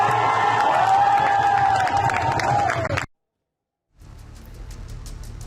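Agitated crowd at a protest, loud overlapping shouting and a drawn-out whistle-like cry for three seconds, then an abrupt cut to silence before the crowd noise returns more faintly.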